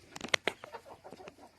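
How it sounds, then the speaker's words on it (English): A rooster and chickens cluck in quick, scratchy bursts, brief and somewhat faint, with no voices. "our feisty rooster."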